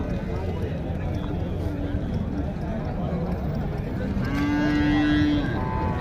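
Cattle at a busy outdoor cattle market in Tiruppur, with a cow or bull letting out a drawn-out moo near the end over a steady crowd murmur and people talking throughout.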